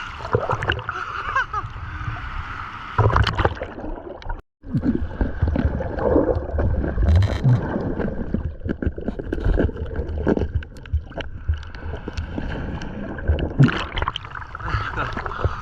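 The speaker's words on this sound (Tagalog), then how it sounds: "Grabe yung lakas ng alon." Strong sea waves slap and churn around a small fishing boat while catching danggit, with loud splashing, gurgling water and wind noise, close and continuous, with a brief dropout partway through.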